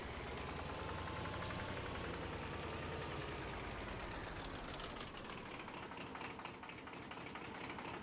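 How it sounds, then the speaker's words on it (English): Tractor engine with a front-mounted mower in the Farming Simulator 25 video game, a loud, steady mechanical drone with a continuous rattling texture that holds throughout, with no talk. "so we can actually see the front of the tractor and see the mower at work."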